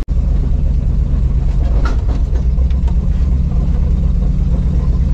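A four-wheel-drive off-road vehicle cruising forest trails in Minnesota at a club convention, a loud steady engine drone and rumble from inside the cab, with occasional rattles and knocks.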